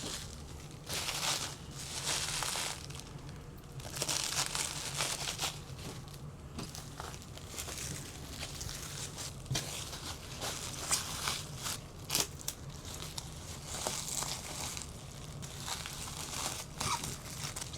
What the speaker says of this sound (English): So simple, we will wrap the item up.